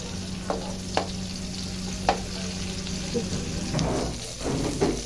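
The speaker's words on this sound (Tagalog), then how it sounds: "nag-golden brown na yung ating bawang at translucent na rin ang ating onion" Garlic and onion fry in a pan with a soft steady sizzle, broken by several sharp clinks and scrapes of a utensil stirring against the metal.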